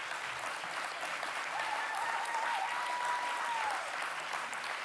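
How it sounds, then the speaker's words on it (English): Festival audience at an Indigenous Liberation Day event gives Chief Dada a warm standing ovation, a full, even roar of clapping heard from a distance, with a faint whistle or voice rising briefly in the middle. "a warm and standing applause for Chief Dada"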